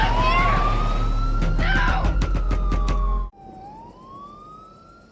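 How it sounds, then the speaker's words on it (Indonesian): Police car siren wailing loudly up close, its tone sweeping with bursts of rapid yelping pulses over a heavy engine rumble, then cutting off abruptly to a fainter, more distant wail. "terdapat suara sirene polisi yang mungkin sedang patroli sedang melewati"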